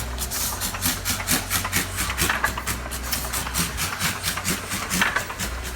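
A Kluge feeder press runs steadily after a gear replacement, giving a continuous low mechanical hum with a regular, rapid rhythmic clatter repeating throughout, close and moderately loud with no talk.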